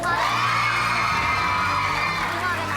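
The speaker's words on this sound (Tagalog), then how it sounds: "Parinig ang palakpak ng Red Team!" A group of children on a kids' TV game show cheer for the Red Team, a loud continuous wash of high-pitched shouts and whoops that holds steady throughout, with any clapping buried in the din.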